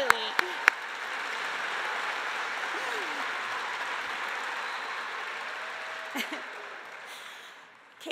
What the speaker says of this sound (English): let's clap, absolutely